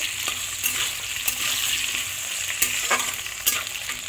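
Potato pieces frying in oil for a ridge gourd and poppy seed dish, producing a steady close sizzle broken by sharp spatula knocks and scrapes against the pan every half second or so.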